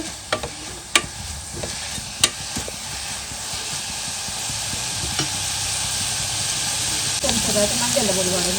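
Onions frying in a pan for mutton curry, a constant loud sizzle with a few sharp spoon clinks early on and a faint voice near the end.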